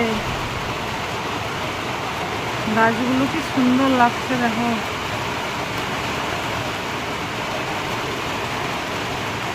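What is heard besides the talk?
heavy rain falling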